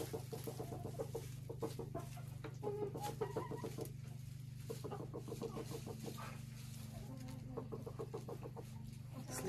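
A rooster calls a hen to its nest to lay eggs at a country dacha, making a long series of low, rhythmic clucks and soft chuckling calls, close and steady over a faint hum.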